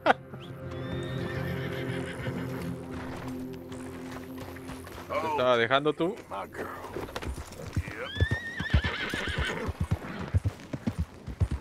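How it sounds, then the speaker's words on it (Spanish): A horse in Red Dead Redemption 2 gallops with rapid hoofbeats and gives a loud, sharp whinny midway, while someone talks over the action. "Estoy llevando el caballo que no es mío."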